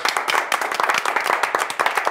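Audience clapping for the crew of a Christmas special awards show, brisk, close handclaps in an uneven rhythm, fairly loud and with no speech over them.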